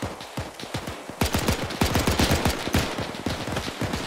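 Rapid bursts of automatic and single gunfire crack in the military shooter game Arma, dense volleys with sharp repeated shots, loud and close, with a heavier stretch after the first second and no talk over them.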